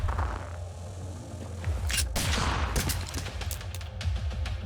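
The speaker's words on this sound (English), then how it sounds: "Gunfire." Gunfire and clattering mechanisms from the tactical video game Reverse Collapse: Codename Bakery form a dense, steady stream of sharp cracks and rattles at moderate volume, with no voices.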